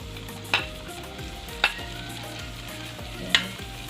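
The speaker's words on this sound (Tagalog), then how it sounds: "gisa-gisa lang po tayo ng bawang sibuyas. And then, add na natin yung mga meatballs." Garlic and onion sauté with meatballs in a hot pan for a patola and miswa soup, a steady close sizzle broken by three sharp scrapes or clinks of a spatula against the pan; no voices.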